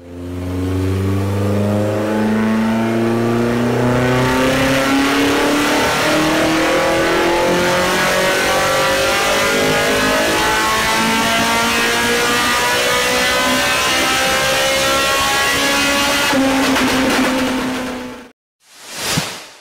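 A BMW M3 E30's S-code engine revs loudly and steadily higher for a long stretch, its pitch climbing before cutting off abruptly, followed by a brief whoosh.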